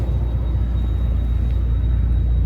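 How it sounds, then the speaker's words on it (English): An airplane passes overhead in the background outdoors, near a 2017 Bentley Continental GT Speed, as a steady, heavy low rumble that stays constant and even throughout, with no talking. "I'm sorry if you hear the plane in the background"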